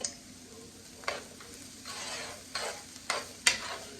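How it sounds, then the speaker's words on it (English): Onion and garlic sauté in vegetable oil, giving a quiet, steady sizzle punctuated by several scraping stirs and a sharp utensil tap on the pan. "So I'm going to saute a little onion and a little garlic."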